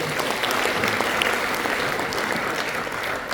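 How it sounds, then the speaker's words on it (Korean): Steady applause from a sizeable crowd at a drone seminar fills the whole stretch, even and sustained without pause. "박수 한번 주십시오."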